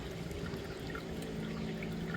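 Steady rushing and gurgling of a small mountain stream near its source at Ayyanchola, running over rocks, continuous and close with no voices.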